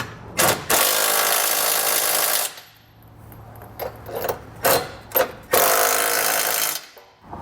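Power tool driving a 19mm socket to snug down trailer hitch bolts, with two long whirring runs separated by several short quick bursts and taps, close up and without talk.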